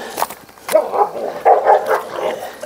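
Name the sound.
dogs barking at cow slaughter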